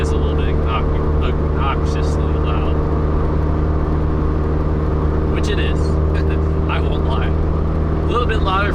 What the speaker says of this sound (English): it almost sounds like a race car sometimes with the exhaust